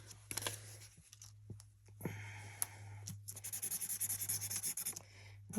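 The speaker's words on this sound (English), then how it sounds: "I need to write how much is in here because I did not write that." Pen scratching on paper as an amount is written by hand, a run of close, soft scraping strokes with a few taps, the strokes growing rhythmic toward the end.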